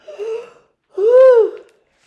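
Two breathy vocal sounds, a short one then a longer rising-and-falling one, close and clear with silence between, like a voice imitating a yawn.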